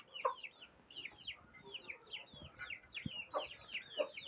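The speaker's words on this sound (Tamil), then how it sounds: "இது அதோட தாய் கோழி." A mother hen clucks softly among her chicks inside a shed, low repeated clucks mixed with rapid high peeping from the young birds, faint and close.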